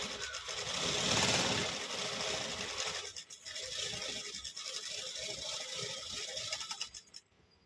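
A sewing machine stitches the lining of a velvet blouse in a steady, close mechanical whir with a rattling rhythm. It runs for most of the stretch, softens partway through, then stops just before the end. No one talks.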